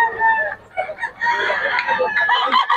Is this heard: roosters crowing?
yes